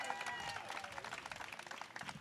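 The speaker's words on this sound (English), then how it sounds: "Could we please have a round of applause for Soha Ali Khan" Audience at a book launch clapping for an author, fairly faint and slightly distant, a dense patter of hands that grows more scattered toward the end.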